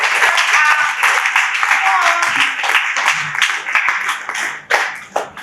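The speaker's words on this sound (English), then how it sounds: "A round of applause for them." An audience claps at an anniversary event, a dense steady round of applause lasting several seconds that tapers toward the end, with voices mixed in.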